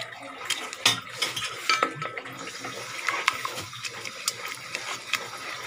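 Chicken soup stirred in a pot as ingredients are gradually added, with a spoon scraping and clinking against the metal throughout, plus scattered sharper clinks over a steady background.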